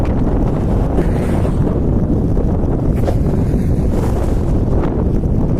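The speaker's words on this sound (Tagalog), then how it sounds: "Ayan o, lakas ng hangin." Strong wind buffets the microphone in a constant loud roar during overnight fishing, with no clear voices.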